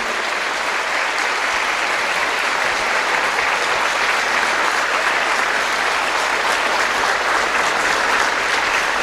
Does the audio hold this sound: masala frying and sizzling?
no